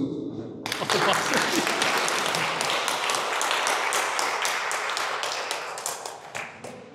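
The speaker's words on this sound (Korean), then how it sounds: "박수" A gathering at a Korean Buddhist professors' conference breaks into dense applause from many hands, starting abruptly and holding steady before gradually thinning out.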